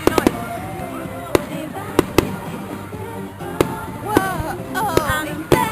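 Night fireworks burst at a 2009 summer event, with crisp, scattered bangs every second or so over a steady bed of crowd chatter and distant crackle.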